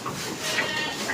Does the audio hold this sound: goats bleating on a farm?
yes